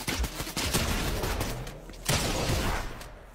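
Bursts of gunfire from a Free Fire-style shooter video game, with rapid repeated shots and a louder volley partway through, dense and close with no talk over it.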